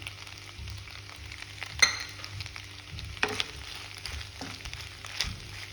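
Scrambled egg frying in butter and stirred into butter pasta, a quiet steady sizzle with a few sharp clinks and scrapes of a utensil against the pan, close by and with no talking.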